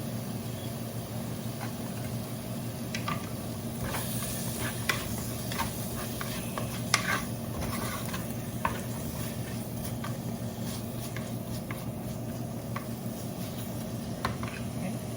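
Tomato curry base sautéing in a pan with a pinch of salt gives a low, continuous sizzle under scattered stirring scrapes and clicks, close up with a steady background hum.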